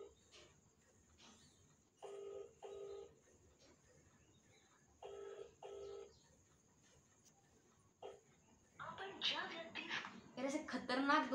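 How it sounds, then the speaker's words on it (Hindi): An unanswered phone call rings out as repeated paired ringback tones with quiet gaps between them, and a voice talks over noisy background toward the end. "एक भी फोन नहीं उठा रहा है, कोई स्विच ऑफ करके रखा है, कोई फोन नहीं उठा रहा है।"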